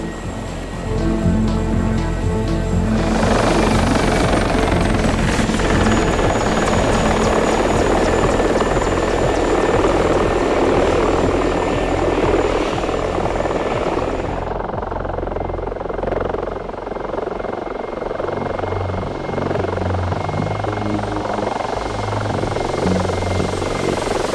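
An Mi-24 Hind helicopter flying in the DCS combat simulator, a loud steady rotor and turbine roar with a high whine that drops in pitch midway, close and continuous.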